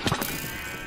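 A Minecraft sheep lets out a bleat as it is hit by an arrow: a short burst of sharp sounds at the start, then a sustained wavering bleat.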